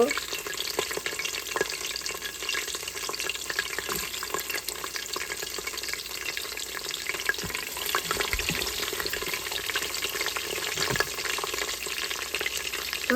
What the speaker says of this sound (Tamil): பூண்டு வதங்கட்டும்